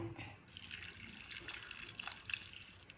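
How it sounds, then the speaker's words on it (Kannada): A little water is poured from a tap or vessel onto chopped ivy gourd in a home kitchen, making a soft, steady trickling splash that stays quiet throughout. "ಇದಕ್ಕೆ ಸ್ವಲ್ಪನೇ ನೀರು ಹಾಕೋಣ"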